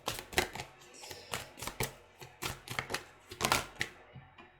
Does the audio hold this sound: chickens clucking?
no